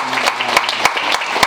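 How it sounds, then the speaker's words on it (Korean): A congregation at a family Christmas church service claps in a short, dense burst of many hands, close and fairly loud, with sharper individual claps standing out. "박수 한 번 더 해주시고"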